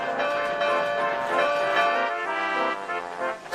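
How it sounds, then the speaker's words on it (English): A brass bell rings steadily on a small narrow-gauge steam engine rattling over bumpy mountain track, bright sustained chimes layered over each other and loud and close throughout. "The track was getting bumpier, and the bell chimed louder."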